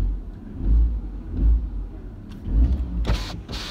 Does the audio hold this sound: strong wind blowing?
no